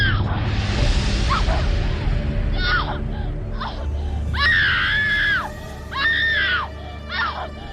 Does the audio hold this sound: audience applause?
no